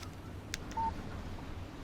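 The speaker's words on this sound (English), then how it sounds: "Text message from Barry." A short electronic phone alert tone for an incoming text message in the Alan Wake video game, a single clear beep over a low background hum, with a couple of faint clicks just before it.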